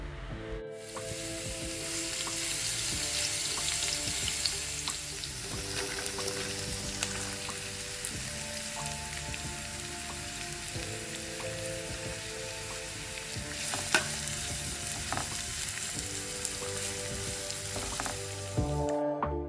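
Crushed garlic, ginger and green chili fry in hot oil in a pan for chana masala, giving a steady, close sizzle with occasional stirring and no talking.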